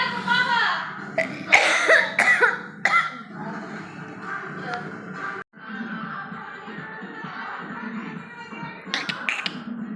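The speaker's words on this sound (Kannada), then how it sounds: "ಗಂಟಲು ನೋವು ಬಂದು ಕೆಮ್ಮು ಸ್ಟಾರ್ಟ್ ಆಗ್ತಿದೆ ನನಗೆ" A person with a sore throat lets out a few sharp coughs early, followed by quieter background chatter and indoor noise.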